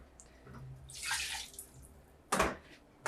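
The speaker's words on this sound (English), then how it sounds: "It's too sticky, pour more water" Quiet splashing pour of water into a pot of ogbono soup, two brief gushes separated by a pause, heard close with no voices.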